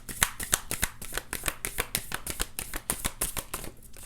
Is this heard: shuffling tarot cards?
yes